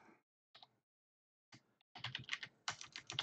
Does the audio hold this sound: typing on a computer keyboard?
yes